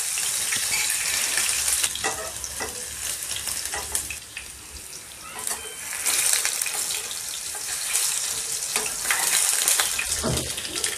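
Garlic and cumin frying in hot oil in a pan, giving a steady close sizzle with crackling bursts that swells and eases over several seconds.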